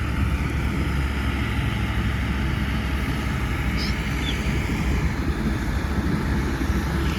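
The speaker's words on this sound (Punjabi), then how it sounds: "ਉਹ ਦੇਖ ਲਓ ਟਰੈਕਟਰ ਘੁਮਾ ਰਹੇ ਨੇ ਵਾਪਸੀ ਹੁਣ" A low, steady engine rumble drones throughout from a tractor turning around nearby in a village field where straw is blowing, with wind-like broadband noise and no speech.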